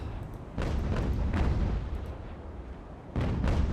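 Cannon loaded with grape shot firing in the naval battle game Ultimate Admiral: Age of Sail, a series of deep rumbling booms that come in close succession and roll on without pause.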